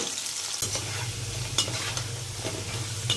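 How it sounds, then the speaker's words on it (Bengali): Raw plantain slices frying in hot oil in a first round, with a steady close sizzle and a few sharper pops and stirring scrapes. "কাঁচকলাগুলোকে আমি দু রাউন্ডে ভাজবো একবার প্রথম রাউন্ডে ভাজছি"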